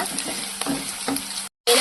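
Grated coconut is stirred into bottle gourd palya frying in a pan: a few rhythmic scraping stirs over a soft, steady sizzle, close and clear, with a brief silent cut near the end.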